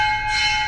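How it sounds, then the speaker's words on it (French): A Hindu temple bell in Varanasi rings once, a loud, close metallic clang with a sustained shimmering tone that rings on steadily without fading much. "Je crois qu'on peut sonner la cloche."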